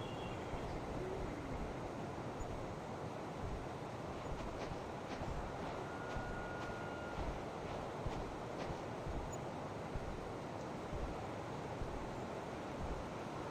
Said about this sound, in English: Eagle owl.